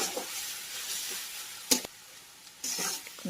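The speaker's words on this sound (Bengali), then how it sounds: "এখন আমি আবার নাড়াচাড়া করে ভেজে নেব।" Potatoes frying and being stirred in a pan for chowmein: a steady close sizzle with stirring scrapes, a sharp burst near the middle and louder sizzling toward the end.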